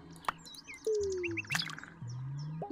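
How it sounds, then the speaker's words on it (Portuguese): Birds in the video game Frog's Adventure chirp in quick bright tweets over soft game tones and gliding synth notes, a short, fairly quiet burst of chatter. "Por causa de passarinho."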